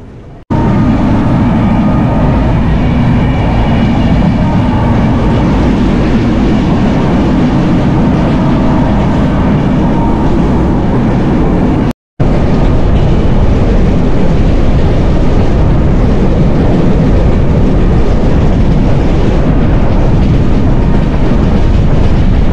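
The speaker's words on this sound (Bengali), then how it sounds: "তো এটা হচ্ছে আমাদের কপোতাক্ষ এক্সপ্রেস ট্রেনের ভিতরের সাইড" Inside the Kapotaksha Express passenger train in Bangladesh, shortly after leaving Noapara station: a loud, continuous low rumble and rattle of the running carriage that drops out for an instant midway, with no talking.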